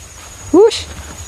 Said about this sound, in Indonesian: Nah, anak kucing cah.